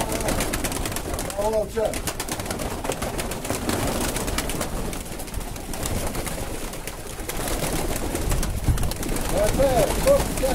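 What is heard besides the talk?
flock of pigeons flying and cooing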